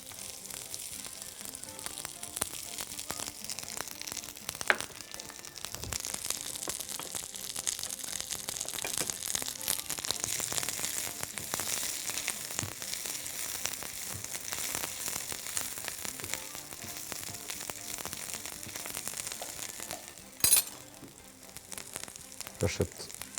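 Onions frying in butter in a pan, a steady soft sizzle with a few brief clatters, continuous and close, and no one speaking over it.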